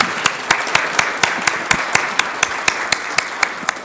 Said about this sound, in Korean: 우리 찬양으로 섬겨주신 우리 중창팀에게도 다시 한번 큰 박수로 축복해 주시기 바랍니다